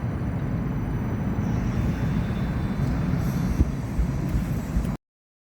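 A tram at the Edgbaston Village stop gives off a steady low rumble and hiss for several seconds, close and continuous, with no talk over it.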